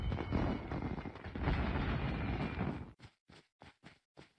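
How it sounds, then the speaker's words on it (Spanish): Fireworks bursting in a Call of Duty match during a Christmas event: a dense, loud rumbling barrage of blasts for about three seconds, then five separate sharp booms spaced with short gaps. "Esto sigue echando fuegos artificiales."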